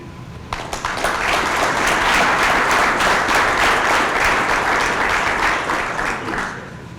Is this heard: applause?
yes